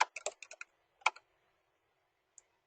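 Quick bursts of keystrokes on a computer keyboard, about eight crisp clicks in a fast run and then a pair and a last lone tap, close and dry in a quiet room while a spreadsheet-style data tool is used.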